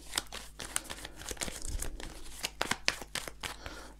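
A deck of print-and-play cards is shuffled during a solo tabletop game, making a close, rapid run of papery flicks and crinkly riffling clicks that continues without talk.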